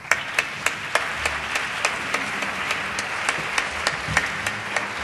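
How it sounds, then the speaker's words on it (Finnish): A small panel discussion audience applauds the panelists with steady, fairly faint clapping, distinct claps punctuating a soft continuous patter. "Annetaan panelisteille aplodit."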